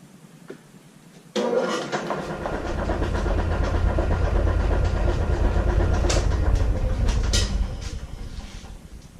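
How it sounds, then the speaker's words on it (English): A wood lathe running at about 400 RPM spins an unbalanced live-edge eucalyptus bowl blank, starting abruptly into a loud steady whirring drone with a low rumble and faint rhythmic knocking. "So I've got my lathe set to about 400 RPM."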